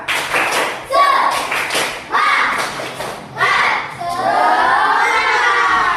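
A school class does a rhythmic spirit clap, with bursts of loud group clapping and shouting repeated several times in quick succession, ending in a sustained chorus of children's voices.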